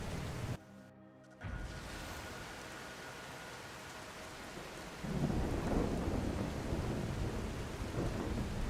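Steady rain and rumbling thunder in Skyrim's stormy outdoors; after a brief dip near the start, the downpour surges louder and heavier in the second half, with no voices.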